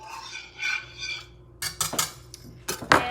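A utensil whisks ingredients together in a bowl for keto Tuscan chicken, making quick, irregular metallic clinks and scrapes in short bursts, nearby, after a softer opening.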